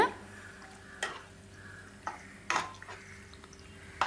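Onion masala sautéing in oil in a pan for egg thokku, a faint low sizzle under a few sharp spoon clanks against the pan spaced about a second apart.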